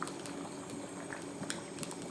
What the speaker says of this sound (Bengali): ডালটা যখন এরকম ফুটবে